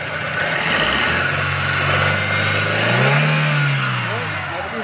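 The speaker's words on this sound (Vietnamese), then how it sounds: "Đây em ga các bác nhá." A 2006 Daewoo Gentra's engine revs up under throttle, the pitch climbing and peaking before settling back, a close steady mechanical drone with someone talking over it.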